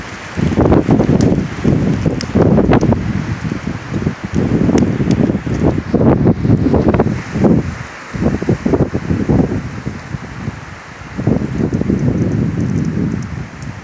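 Strong 40-60 mph wind gusts roar through trees beside a lake, surging in repeated loud bursts of rustling with brief lulls between, close and continuous.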